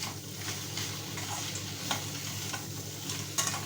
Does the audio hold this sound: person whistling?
no